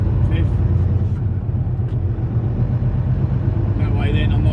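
A truck engine drones loud and steady from inside the cab as the driver lets it roll and shifts into third gear, a constant low rumble with road noise throughout.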